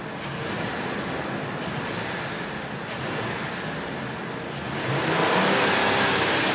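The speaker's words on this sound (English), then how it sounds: "I'm going to open the hood and open the throttle" A car engine under an open hood revs as the throttle is opened during a scanner check, a steady broadband roar that swells louder near the end, with no talking.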